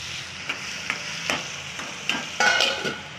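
Chopped onion frying in a pan for pav bhaji, a close, steady sizzle broken by several short scraping stirs of a spoon, with no voices.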